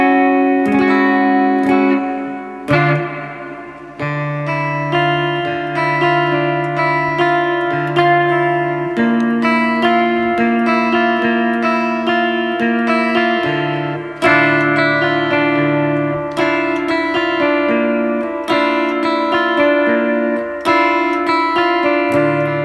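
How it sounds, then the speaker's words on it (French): Electric guitar played through an Orange amp with its reverb turned all the way up, sustained chords and ringing notes washing together in a steady, full wash of echo, with no talking. "on va mettre un peu de reverb là, vous entendez? Elle arrive, on va la mettre à fond"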